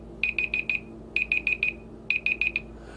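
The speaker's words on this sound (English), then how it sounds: "that was my alarm going off" Three bursts of four short, shrill electronic alarm beeps, evenly spaced and clear over a faint steady background hum.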